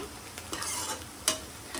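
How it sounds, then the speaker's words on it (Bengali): Sliced onions with bay leaves sizzle in hot oil as a spoon stirs them around the pan, giving a close, continuous fry with scraping strokes and a sharp clink near the end. "দিয়ে আবার একটু ভালো করে নাড়িয়ে নিচ্ছি"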